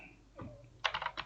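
Quick keystrokes on a computer keyboard during coding in Android Studio, a short cluster of crisp, close clicks after a faint thump, quiet and with no talk over it.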